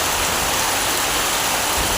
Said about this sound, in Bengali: আর এইভাবে বৃষ্টি পড়লে বারান্দাতে দাঁড়া আমি বৃষ্টি দেখি